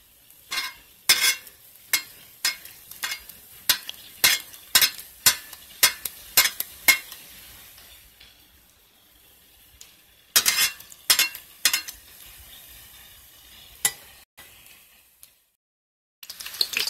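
Brick egg rolls with sausage frying in oil, with a run of sharp clinks and scrapes from a utensil against the pan over a low sizzle, pausing midway before a fresh burst of clatter, close by and with no talk.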